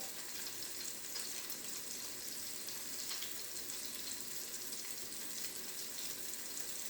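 A burger sears on a Pampered Chef grill and griddle, making a steady, even, close sizzle and hiss that runs unbroken without talk.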